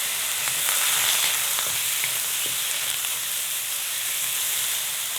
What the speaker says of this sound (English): Now you fry the tomatoes for another 3 minutes.